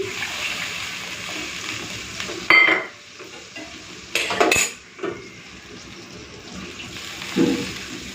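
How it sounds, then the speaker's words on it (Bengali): Water is poured into a sizzling potato and pointed gourd curry in a pan, bursts of loud hissing and splashing over steady frying, with clinks of a pot and utensil between. "চলুন একবার জল দিয়ে এই সিল ধোয়া জলটা একটু দিয়ে দিচ্ছি"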